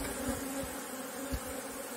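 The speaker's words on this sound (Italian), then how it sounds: "Oggi le api sono particolarmente nervose." Agitated honey bees swarm around a hive on a windy day, a steady close buzzing hum filling the whole stretch with no voices.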